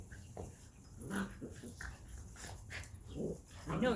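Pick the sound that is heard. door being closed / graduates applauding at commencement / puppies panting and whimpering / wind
puppies panting and whimpering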